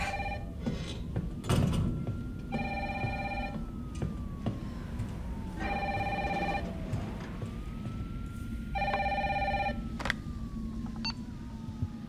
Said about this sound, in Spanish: 28 de septiembre a las 8, Raccoon City, y suena el teléfono